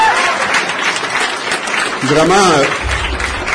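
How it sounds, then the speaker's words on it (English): A crowd at a Montreal democracy rally applauds, dense steady clapping heard throughout beneath someone speaking French over a microphone. "Vraiment, un main d'applaudissement pour ça"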